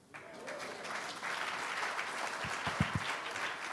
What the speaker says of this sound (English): that's a little pity pat applause